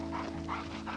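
A dog pants quickly and softly nearby in an indoor setting, with steady rhythmic breaths and a faint hum behind.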